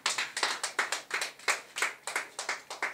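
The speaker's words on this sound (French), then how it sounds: "Acclame le Seigneur Jésus-Christ très très fort" A church congregation claps in unison to acclaim Jesus Christ, a fast, steady run of about fourteen sharp, close handclaps in three seconds, with no voices over them.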